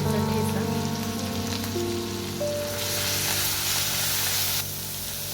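Cumin seeds and finely chopped garlic sizzle steadily in hot oil for a Maharashtrian chukka dal tempering, a loud, continuous close-up crackle with no talking.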